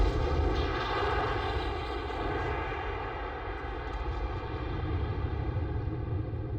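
Rocket engine firing in Kerbal Space Program with the RP-0 mod, heard as a steady, loud, broadband roar with a constant hum that holds unchanged throughout and no voices.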